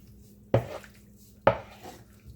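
Two distinct metallic clanks of a utensil striking a pan while ampalaya con carne, bitter melon with beef, is stirred, about a second apart and close, with quiet background between.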